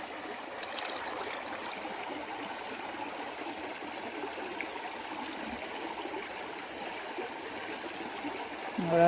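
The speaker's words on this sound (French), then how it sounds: "Voilà comment je rince ma Moon Cup." Water from a tap runs steadily while a menstrual cup (Moon Cup) is rinsed, a continuous close hiss and trickle with no breaks, swelling slightly at the very end.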